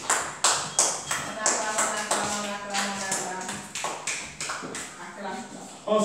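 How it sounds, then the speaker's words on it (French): A church congregation claps together in a steady, fast rhythm during a French-language service, the sharp claps fairly close and loud, with singing and voices carrying over them. "Acclamons pour la parole de Dieu."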